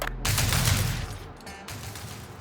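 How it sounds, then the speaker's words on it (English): Anti-air repulsor cannon in the game TerraTech firing a loud burst of rapid booming shots, then a shorter second volley with a ringing tail. "Anti-air repulsor cannon."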